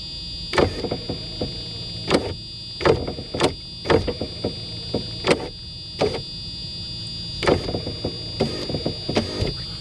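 The power window regulator of a Mercedes 600SEC, riding on metal instead of plastic, produces a series of irregular, close clunks and knocks in short clusters over a faint steady hum.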